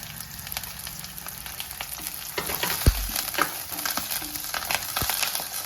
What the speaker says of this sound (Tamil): எண்ணெயிலேயே எல்லாத்தையும் நல்லா வதக்கிக்கலாம்